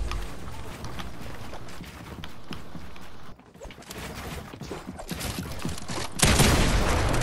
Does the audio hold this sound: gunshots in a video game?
yes